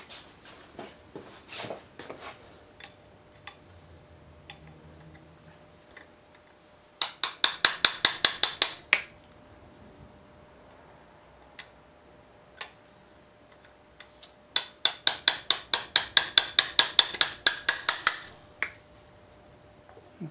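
Two quick bursts of sharp metallic taps, a hammer striking a metal part of a Briggs Model Y engine during a rebuild about a dozen times each, separated by quiet with faint handling noises.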